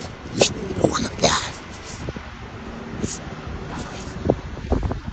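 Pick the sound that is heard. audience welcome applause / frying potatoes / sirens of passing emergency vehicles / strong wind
strong wind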